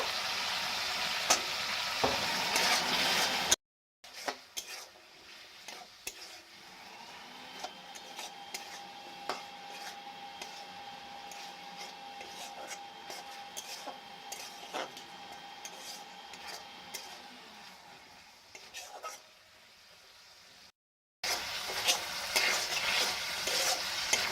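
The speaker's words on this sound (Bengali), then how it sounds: "আমগুলো দিয়ে নিয়ে নাড়াচাড়া করে নেব" Cut mango pieces are stirred into a prepared spice masala in a pan, with a low sizzle and repeated light ticking scrapes of the spoon, framed by louder, busier bursts of frying at the start and end.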